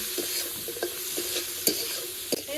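Garlic fried with turmeric and salt sizzles softly in a pan, while a spatula scrapes and stirs in quick, irregular strokes close by, with no talking.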